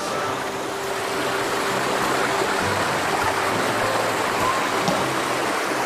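A cool river flows steadily with a loud, continuous broadband rush of moving water, close by and unbroken throughout.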